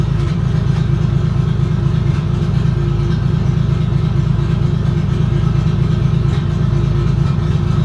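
Car engine idling roughly and unevenly, a loud, steady low rumble with an uneven pulsing beat and no talking.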